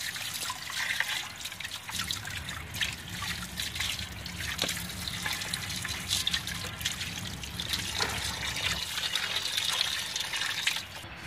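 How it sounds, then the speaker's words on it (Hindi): Water splashes and trickles continuously while paya meat is rinsed by hand, with occasional knocks and sloshes throughout. "अब हम इन्हें जो है वॉश करेंगे पानी की मदद से।"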